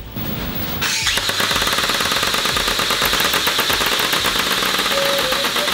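An AI-powered, person-tracking airsoft turret built for home security fires a loud, continuous rapid burst of shots that starts abruptly after a brief lead-in and runs steadily to the end.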